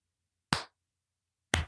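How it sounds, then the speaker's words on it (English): Two slow, separate claps about a second apart, crisp and close against near silence, a slow clap for a fantasy football league champion. "Just a nice slow clap for Gary there."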